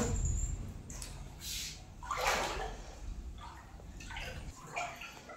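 Water sloshing and splashing in a swimming pool as someone bathes in cold water, a series of soft irregular splashes and gurgles over a low rumbling background, fairly close.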